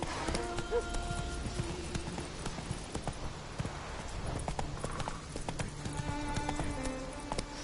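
Roach the horse ridden in The Witcher 3, rapid rhythmic hoofbeats clip-clopping at a steady gallop, fairly close, with faint game music and a little speech.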